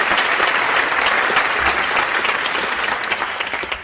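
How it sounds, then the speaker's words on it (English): An audience applauds awardees at the IFAC 2008 closing ceremony in a large hall, a dense, sustained roar of many hands clapping that fills the whole stretch and tapers slightly at the end. "please give all of our awardees another big round of applause for their accomplishments"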